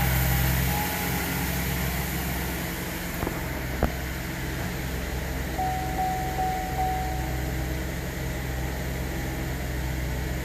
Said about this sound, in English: I'll let the car run for